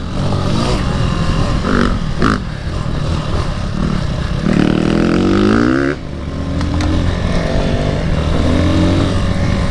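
A Brozz 250 Chinese dual-sport motorcycle rides an off-road forest trail, its engine loud and close, revving up and down unevenly with wind buffeting and rough-terrain clatter.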